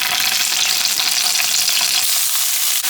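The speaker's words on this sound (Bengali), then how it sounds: "এরপর যে মুরগির পিসগুলো আমরা অল্প করে ভেজে নিচ্ছি।" Chicken pieces fry in oil for Kabuli pulao, giving a loud, close, continuous hissing sizzle that stays even throughout with no talking.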